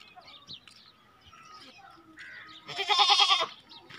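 A breeder-quality goat bleats once loudly near the end, a short wavering cry, after quieter background sounds and faint bird chirps.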